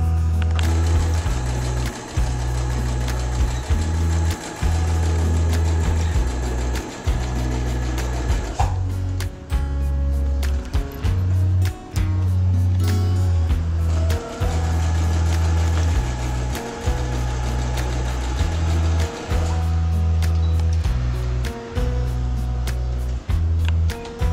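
A sewing machine stitches a fabric bag pocket in a steady, loud mechanical whir with a rapid needle rhythm, pausing briefly a few times before running on. No one speaks.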